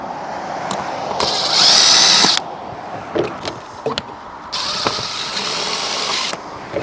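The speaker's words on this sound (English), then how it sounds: "The instructions don't actually say anything about drilling pilot holes." A power drill whirs in two short bursts, about a second and two seconds long, drilling pilot holes for an RV rooftop refrigerator vent cover, close and loud, with clicks and handling noises between.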